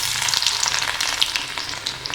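Finely chopped garlic fries in hot oil left from roasting lentils, after mustard seeds have popped, giving a dense, close crackling sizzle with quick spitting pops throughout.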